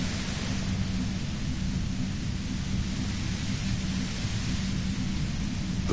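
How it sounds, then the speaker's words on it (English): Loud, harsh white noise from a compressor in the video game Disco Elysium, a constant heavy roar with a deep rumbling low end that fills the whole stretch without a break. "The violent white noise becomes even more overwhelming closer to the compressor."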